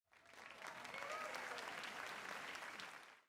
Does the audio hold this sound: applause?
yes